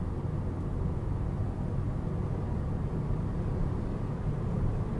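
A 2019 Mercedes A220 front-wheel-drive car accelerating at full throttle, heard from inside as a steady, dense engine and road roar with no voices.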